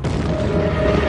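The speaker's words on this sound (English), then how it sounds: "exploding with the full force of a supervolcano" A deep, sustained boom with continuous rumble standing in for a supervolcano eruption at Yellowstone, loud and dense throughout with a low roar and no pauses.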